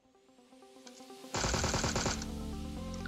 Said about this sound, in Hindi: तो MK-14 से ख़त्म करते हैं